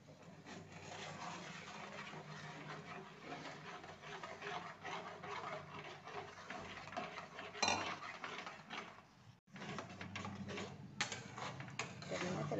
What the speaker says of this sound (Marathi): उलटण्याने ते असं हलवायचं.